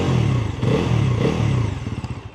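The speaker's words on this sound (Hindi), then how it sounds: "मैं दूर हूँ बाइक से और मैं इसका थ्रॉटल देता हूँ, कुछ ऐसा सा। इसमें अंडर बेली एग्जॉस्ट यूज हुआ हुआ है" A Bajaj Pulsar NS400Z with a 349 cc single-cylinder engine and under-belly exhaust revs in two or three quick throttle blips, each rising and falling, then settles toward a rough idle, heard from a short distance.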